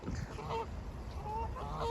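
Ducks, some green-headed and some black-headed, call with several nasal, honking cries in quick bursts, fairly close, over a faint outdoor background at their sleeping spot by water.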